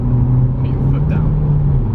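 An Audi S3 quattro engine drones steadily from inside the cabin, with a low, even hum that rises only slightly as the car pulls forward.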